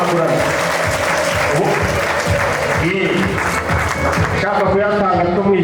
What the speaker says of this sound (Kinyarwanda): mwatanze amashyi ko hano